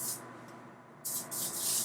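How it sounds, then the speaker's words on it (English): Heat protectant sprayed onto hair extensions comes as short, close hissing bursts: one brief spritz at the start, then two longer sprays near the end, with quiet between them. "I just spray it over my extensions."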